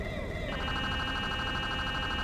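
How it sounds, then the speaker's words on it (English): Video game emergency vehicle sirens wail together, one tone giving way to a faster warbling pattern, loud and continuous over faint background talk. "Both vehicles enable siren."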